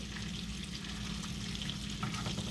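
A burger patty sizzles and fries steadily in a hot pan, a constant crackling hiss with a low hum beneath, close and even throughout with no talking.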